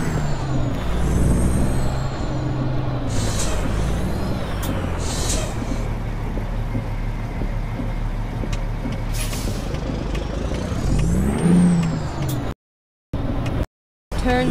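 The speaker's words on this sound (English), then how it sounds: "Truck's running a Cat C15, 550 horses, and actually it's a good sounding engine." In American Truck Simulator, a truck with a Cat C15 engine rated at 550 horsepower and an 18-speed Eaton Fuller transmission drones loudly and steadily, with hissing air-brake releases and a rising whine near the end.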